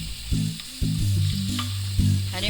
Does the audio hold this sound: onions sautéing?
yes